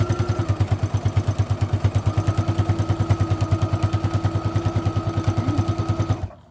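A sewing machine stitching through four layers of fabric, running at a fast steady rhythmic chug with a motor whine underneath, then stopping abruptly at the end.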